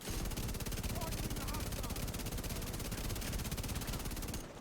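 A light machine gun fires in the video game The Division 2, a dense, rapid, unbroken burst of shots lasting several seconds, loud and continuous before cutting off at the end.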